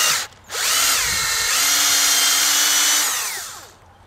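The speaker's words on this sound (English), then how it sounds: "I'm just gonna drill this really quick" A power drill bores a 5/16 inch tap hole into a maple tree that is already flowing with sap, giving a loud, steady whine for about three seconds before it winds down, with no talking.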